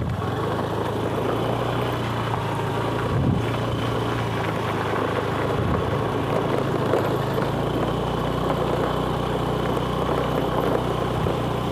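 A vehicle engine running steadily on a road in a hill village that lacks drinking water, a continuous low rumble with a faint rising and falling drone throughout, with no voices heard.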